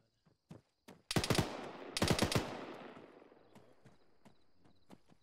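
Gunfire in a military video game: a few sharp isolated shots, then two dense bursts of rapid automatic fire with a decaying echo, followed by scattered single distant shots, with no talk.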